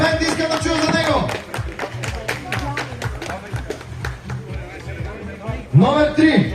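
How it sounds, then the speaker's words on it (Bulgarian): Crowd clapping and cheering for a 24-year-old, 110 kg strongman competitor at Bulgaria's Strongest Man contest in Plovdiv, steady applause throughout with an announcer's amplified voice talking over it and a louder burst near the end. "Силно аплодисменти искам да чуя за него"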